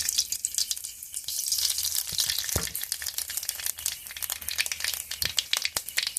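Nigella seeds sizzle and crackle in hot oil in a wok: a steady, bright frying hiss full of dense, fast pops that stays close and fairly loud throughout.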